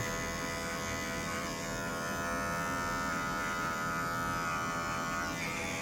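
An electric hair clipper buzzing steadily up close while cutting hair into a rounded shape at the back of the head, a constant loud motor whine with slight pitch shifts as it moves.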